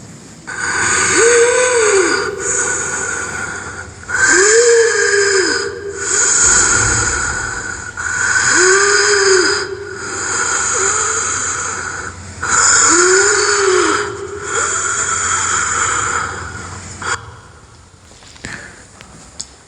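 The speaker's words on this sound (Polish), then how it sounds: "Dźwięk dwunasty to ciężki oddech." Loud, slow heavy breathing with rasping inhales and exhales in a steady rhythm, roughly every two and a half seconds, close up and without speech.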